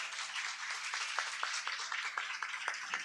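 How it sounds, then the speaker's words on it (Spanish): Audience applause after a talk at a science event, scattered sharp claps from a small crowd, fairly faint and thin over a quiet background hum. "Un aplauso."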